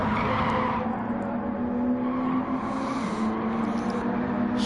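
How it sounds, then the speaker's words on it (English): Race car tyres squeal around the final bend of a video game race, a sustained, loud screech over roaring engine noise lasting throughout. "Squealing those tyres round the final bend."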